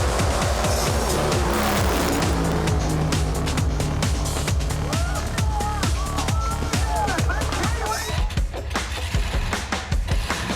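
A drag racing car launches hard off the start line at a night meeting in North Queensland, its engine roaring loud and continuous with crackling bursts, under crowd noise and a commentator's voice.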